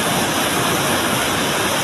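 Baby Falls, a waterfall, pours as a dense, steady rushing roar, loud and close, with no voices over it.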